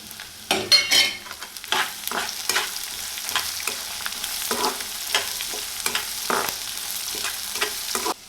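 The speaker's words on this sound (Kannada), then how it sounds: "ಬೆಳ್ಳುಳ್ಳಿ ಅಷ್ಟೇ ತುಂಬ ಚೆನ್ನಾಗಿ ಫ್ರೈ ಆಗಬೇಕು" Garlic fries in hot oil in a pan, a close crackling sizzle broken by bursts of stirring and scraping that come and go at an uneven rhythm, fairly loud throughout.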